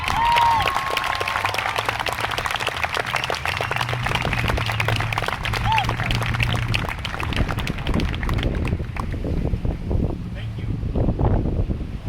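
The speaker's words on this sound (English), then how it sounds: "Have one more round of applause for Jacob now" Outdoor crowd applause at a racial justice rally and march, steady clapping mixed with wind noise on the microphone and scattered cheers, continuing for about twelve seconds.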